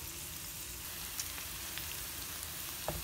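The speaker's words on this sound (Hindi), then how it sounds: "मैंने एक मीडियम साइज़ का अनियन जो है वो थोड़े से ऑयल में डाल के फ्राई होने के लिए रख दिया है" Medium-sized onion frying gently in a little oil, a steady soft sizzle with faint crackles and a few small pops, close and even throughout, no talking.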